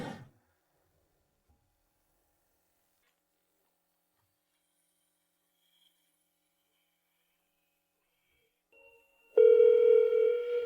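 A telephone rings in a quiet home, breaking a long silence with a loud, steady electronic tone near the end.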